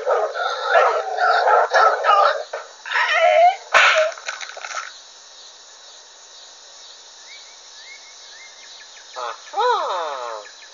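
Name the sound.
dog barking and attacking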